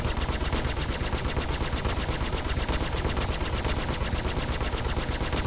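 Ship weapons in the space combat game Star Citizen Arena Commander fire in a rapid, unbroken automatic stream, loud and steady throughout with no voices.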